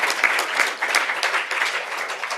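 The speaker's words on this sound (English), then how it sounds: "How about an applause for our bowling team from Eisenhower High School?" An audience at a Yakima school district board meeting claps for the Eisenhower High School bowling team, a dense, steady round of applause filling the room throughout.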